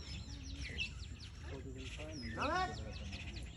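Many birds chirp and twitter in a busy cluster, with people talking over them in the background.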